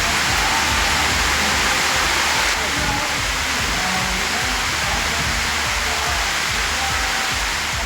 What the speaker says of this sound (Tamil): கனமழை காரணமாக மலைக்கோயில் படிப்பாதையில் மழைநீர் அருவி போல் பெருக்கெடுத்து